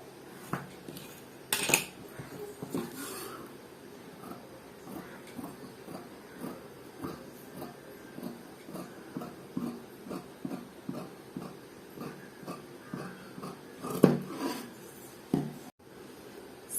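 Scissors cutting through blouse cloth on a table, a long run of evenly spaced crisp snips at close range, with a few louder clunks and knocks at the start and near the end.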